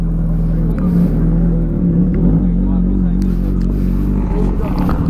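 A ZX10R or S1000RR sportbike engine drones loud and steady at close range during a wheelie, a deep continuous rumble with a slight rise in revs, with voices faintly mixed in.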